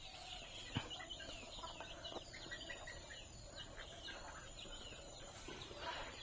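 Chickens cluck softly while pecking at rice paddy, a few scattered, faint clucks and short calls against a quiet outdoor background.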